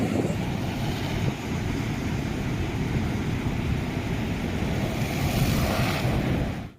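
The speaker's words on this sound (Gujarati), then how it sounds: "દરિયામાં ઊંચા મોજા ઉછળતા દેખાઈ રહ્યા છે" Rough sea off Navsari, Gujarat, with high waves churning under strong wind, a continuous broad roar of surf and gusting air at moderate loudness, steady throughout with no voices.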